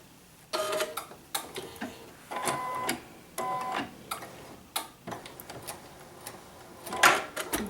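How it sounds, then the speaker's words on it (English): A sewing machine stitches a seam across fabric for a flower mug rug, sounding as a series of close mechanical whirring bursts and ticks, starting and stopping in short runs with brief pauses between them. "start the machine, and it's going to stitch a seam going across"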